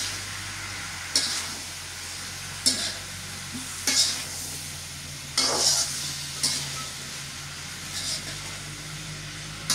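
Garlic paste frying in a pan as it is stirred: a steady sizzle and hiss underneath, broken by about seven sharp scraping strokes of a spoon at irregular intervals.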